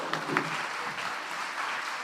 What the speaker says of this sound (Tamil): உங்கள் கரகோஷத்துடன் துவங்குகிறோம்